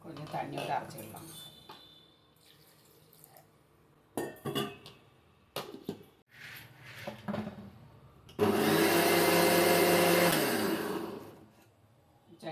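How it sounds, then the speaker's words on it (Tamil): Someone talks amid clinking utensils and pot sounds before a mixer grinder bursts into a loud, steady whirr grinding coconut chutney with water, running a few seconds then winding down. "கொஞ்சம் தண்ணி விட்டு அரைச்சிக்கலாம்."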